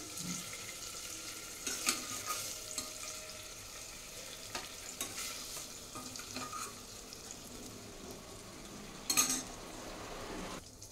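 Paneer pieces frying in hot oil give a soft, steady sizzle at low level, broken by a few light utensil scrapes and stirs, with one brief louder clatter late on.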